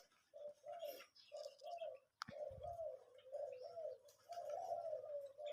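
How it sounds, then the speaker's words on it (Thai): Pigeons in a loft coo softly in repeated low, rolling phrases, quiet and close, with a brief rustle or thump partway through. "พามาดูนกฝึกครับ"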